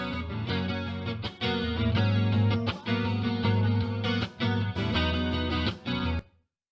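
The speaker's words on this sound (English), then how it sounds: "you just get straight up reverb on the default patch" Electric guitar chords strummed in short bursts with a default-patch reverb effect trailing each hit with a roomy sound, then cutting to silence at the end.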